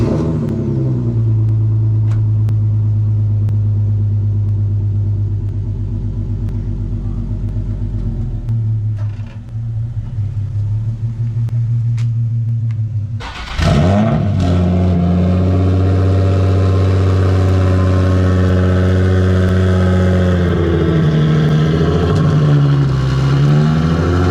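Turbocharged Nissan 350z making 500 wheel horsepower idles with a loud, deep, steady rumble, dips briefly, then barks back with a sharp rev and settles into a lumpy, throbbing idle with further rev swells; no voices.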